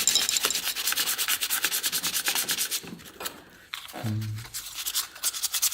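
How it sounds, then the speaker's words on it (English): Rapid, rhythmic rasping strokes of sandpaper rubbing on wood, close and steady, pausing briefly before a few final strokes. "A little bit of sanding."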